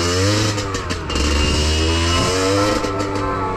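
A motorcycle engine warms up and revs up close, a steady loud idle with clattering mechanical texture and short rising revs, with no talk over it.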